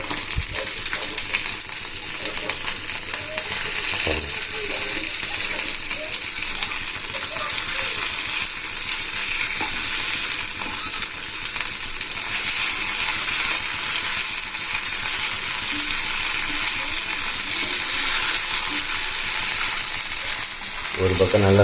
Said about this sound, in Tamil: ஒரு பக்கம் நல்லா ஃப்ரை ஆகிடுச்சு.